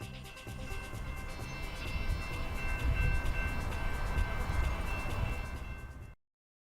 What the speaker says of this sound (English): the trains were ringing and rolling earlier this afternoon